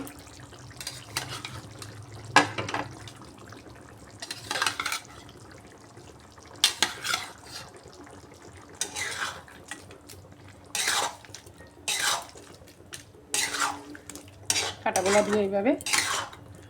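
A utensil stirs fried rui fish bones together with boiled potatoes in a pan, giving intermittent scrapes and metallic clinks against the pan, close and fairly quiet, with soft sizzling between strokes.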